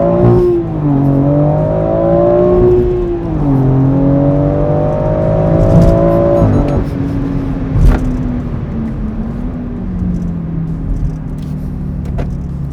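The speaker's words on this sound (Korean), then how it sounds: "지금 보여드린 건 뭐냐면은 그 변속 타이밍을 지체해서 변속을 해봤습니다." A BMW X3 M SUV accelerating hard in first gear, engine revving up, briefly dipping and climbing again, then holding a high whine before a delayed upshift settles into a lower drone, close and loud.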